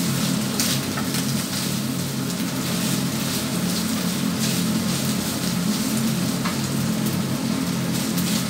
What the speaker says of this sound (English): I will fry the meat first so that our onions and garlic will not overcook.